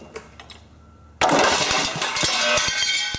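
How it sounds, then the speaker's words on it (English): A Briggs & Stratton opposed-twin engine cranks over abruptly after a quiet moment, a loud steady mechanical churn with rapid rhythmic pulses and metallic clatter, close up and with no talking. "Crank it over and gas will shoot out of there"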